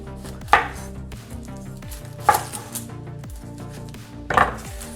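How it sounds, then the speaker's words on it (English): A regular-size onion is cut on a cutting board for Korean beef and radish soup, three distinct knife chops spaced about two seconds apart, close and crisp over a quiet kitchen background. "I just want to cut these into rough little cuts"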